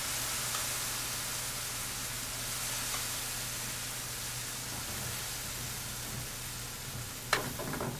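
Dal sizzles in a frying pan with a steady, soft crackling hiss that holds throughout. A brief clatter comes near the end, and no one speaks.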